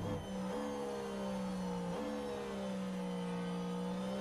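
A McLaren Formula 1 car engine in the racing game F1 Manager 23 drones steadily at high revs, with sharp pitch drops at gear shifts as the car passes. It is loud and continuous, with no speech.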